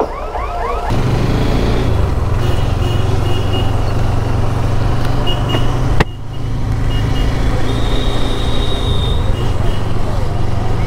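A train thunders past a railway level crossing, a loud continuous rumble of wheels and wagons with metallic squeals and ringing tones riding on top, close and sustained throughout.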